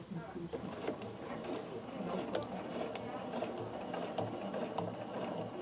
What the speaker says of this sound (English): now let's see what happens when I sew with the walking foot on